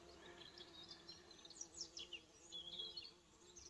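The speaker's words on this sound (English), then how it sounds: "There's bumblebees and bees and hoverflies." Faint buzzing of bumblebees, bees and hoverflies drifts around an outdoor spot in the hills of County Clare, soft and intermittent over quiet background air.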